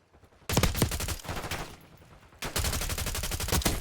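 Gunfire in Call of Duty Warzone, with rapid automatic bursts of shots in two loud, close volleys separated by a short gap, alone without talk.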